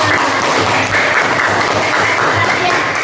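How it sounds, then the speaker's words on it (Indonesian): A group clapping steadily, dense sustained applause filling the room without pause. "tepuk tangan dulu untuk kelompok 5"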